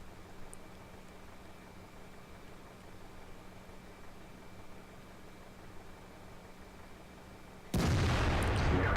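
An Object 704 tank in a tank video game fires its heavy cannon once near the end, a sudden loud blast breaking a long stretch of low, steady engine hum and background noise, with no talking.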